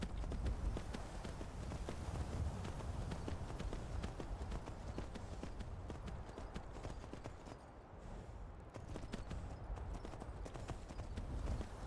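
Horse hooves gallop in steady, loud clip-clop across the Skyrim video game world, a continuous rhythmic pounding that runs throughout with no speech over it.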